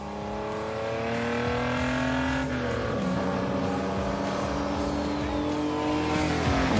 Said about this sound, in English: The sound when downshifting is really fun.